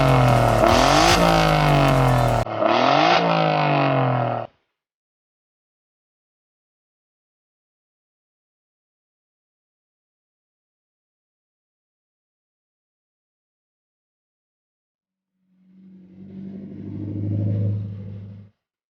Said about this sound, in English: let's hear the car. Let it roar.